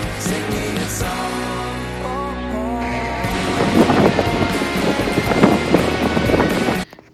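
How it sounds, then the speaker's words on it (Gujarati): Strong wind buffeting a microphone outdoors in bad weather, making a loud, rough roar that builds after a few seconds of music and then cuts off abruptly near the end. "હું બોલી રહી છું પણ પવનનો એટલો અવાજ આવે છે કે મારો અવાજ બી નથી આવતો"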